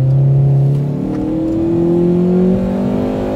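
A Honda Accord Type R engine revs hard and climbs into VTEC, a loud, close, continuous rising drone that holds strong throughout with no talk over it.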